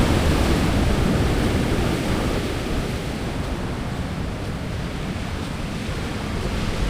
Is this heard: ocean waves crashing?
yes